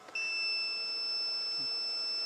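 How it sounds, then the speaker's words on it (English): A steady, high-pitched electronic beep as a homemade electric system runs its power-on startup, two tones held continuously for a couple of seconds, loud and close with no talking. "You'll hear it beep for a couple of seconds while it's doing its startup procedure"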